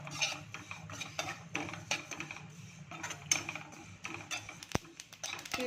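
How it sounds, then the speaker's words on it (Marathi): Sesame seeds dry-roasting in a pan while being stirred for a curry leaf chutney, with irregular close scraping and metallic clinks of the spoon against the pan and a faint crackle. "त्यानंतर तीळ तीळ पण अशीच भाजून घ्यायची"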